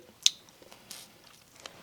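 Someone chewing a raw lemongrass stalk, with a sharp crisp bite near the start followed by soft, irregular squishy chewing sounds close up and quiet, with no talk.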